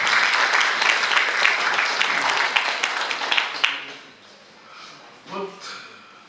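Audience applause at a Chuvash poet's anniversary celebration, dense clapping that fades out after about four seconds into quiet room noise with a few faint sounds.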